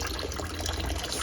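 Kitchen tap water running steadily while hands are rinsed, a close, continuous splashing gush with no pauses.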